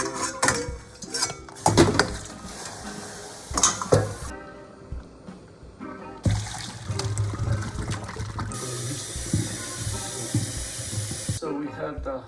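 Rice pasta is drained in a kitchen sink, with running water splashing and metal pots, pans and utensils clanking and clinking irregularly, close up, with a few brief pauses.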